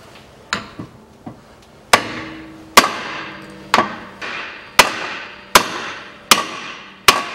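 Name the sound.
hammering out front suspension bushing, Toyota Harrier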